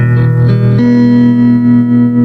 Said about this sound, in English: Seems the tremolo's a little weak,